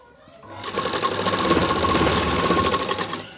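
A sewing machine stitches Rajputi poshak fabric in one short, steady run of rapid mechanical whirring. It is close and clear, with no voices over it.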